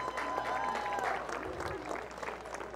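A crowd applauds steadily for seniors on senior day at a college softball game. The clapping is dense and continuous throughout, with some faint crowd noise mixed in.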